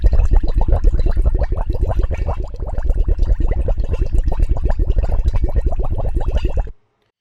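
A bubbles sound effect for an underwater wave design: dense rapid streams of popping, gurgling bubbles, loud and continuous for several seconds before cutting off abruptly to silence.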